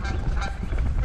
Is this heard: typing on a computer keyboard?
no